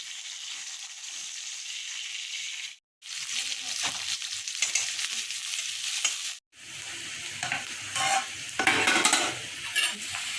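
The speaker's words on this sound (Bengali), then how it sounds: "এদিকে মাছ ভাজা মনে হয়ে এসেছে" Fish sizzles and spits in hot oil in a frying pan, a steady close crackle broken by two brief pauses, with occasional stirring and utensil scrapes against the pan.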